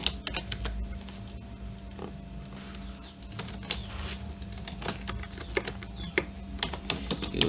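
Computer keyboard keys clatter in irregular bursts of quick taps and spaced clicks, close and fairly quiet, with no voices.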